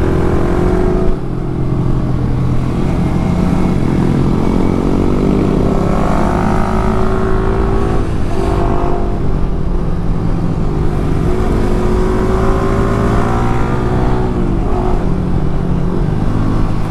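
A car drives steadily along a road while overtaking, its engine droning loud and close throughout, with the pitch rising and falling as it accelerates and passing vehicles whoosh by.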